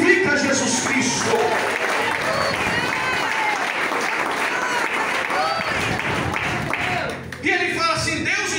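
A church congregation claps and cheers in worship, a loud, dense wash of hands with voices shouting and singing over it, continuous throughout with a brief dip near the end.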